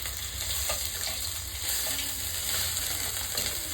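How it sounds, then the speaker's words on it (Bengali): Onion paste sizzles in oil in a pan for a Bengali-style silver carp dish, producing a close, even, continuous frying hiss with no voices. "এবার আমি অন্য একটা প্যানে তেল দিয়ে দিলাম পেঁয়াজ বাটা।"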